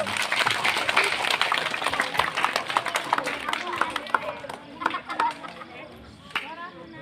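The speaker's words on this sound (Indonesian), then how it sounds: "Tepuk tangannya Bapak Ibu." Applause from the audience at an Islamic religious gathering, a dense patter of many hands clapping that thins out over several seconds, with a voice speaking over it.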